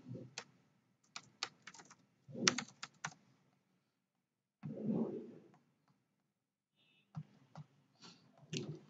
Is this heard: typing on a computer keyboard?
yes